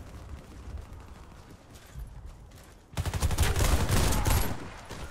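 A high-powered shotgun revolver in a video game fires in a loud, rapid burst of blasts after a quieter stretch of low game ambience.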